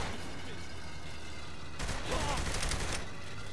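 Machine gun fire in the video game Saints Row The Third, a dense continuous burst of rapid gunfire that swells louder midway, heard under game ambience.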